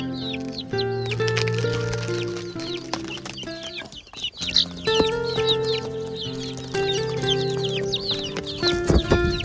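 Many month-old chicks cheeping and clucking continuously and busily, close by, over a steady humming tonal background.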